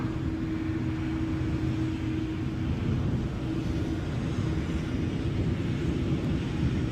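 A WestJet airliner arriving at Edinburgh airport makes a steady, broad jet roar at moderate distance, constant throughout with a faint tonal hum underneath.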